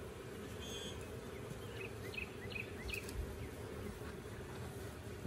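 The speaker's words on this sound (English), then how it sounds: "Make sure we don't squish any bees." Honey bees buzz around an open beehive during a check for adding a honey super, a steady faint drone with a few individual bees passing close by.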